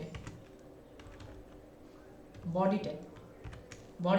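Code typed on a computer keyboard while writing HTML body tags, a soft irregular patter of key taps running close under someone talking.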